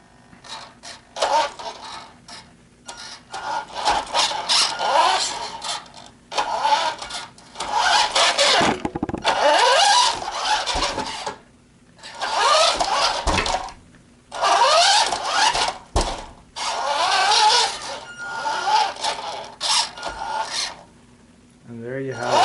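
Radio Shack Carnivore hobby-grade RC car with its electric motor whining in repeated bursts, revving loud and close in several pulses with brief quiet gaps between them.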